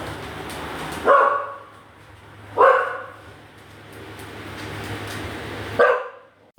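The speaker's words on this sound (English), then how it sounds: "see what she's barking at" Three loud, sharp dog barks spaced a couple of seconds apart, close by, over a low background hum.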